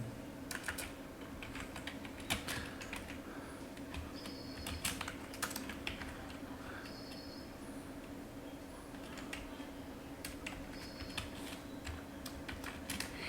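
Code is typed on a computer keyboard with rapid, faint key clicks in irregular bursts over a steady low electrical hum and room noise. Nobody talks.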